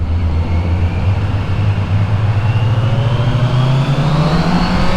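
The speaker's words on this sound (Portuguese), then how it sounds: "O som tá sensacional dessa moto." A loud Kawasaki Z900 sport motorcycle engine revs continuously, its pitch climbing steadily as it accelerates, close and dominant throughout.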